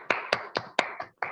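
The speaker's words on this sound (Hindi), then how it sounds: "ओपी सर और रवि सर के लिए एक बार शानदार ताली बजाइए" Clapping at an RCM marketing plan meeting: six sharp, evenly spaced claps ring out in a steady rhythm, fairly close and distinct, with a brief pause before the last.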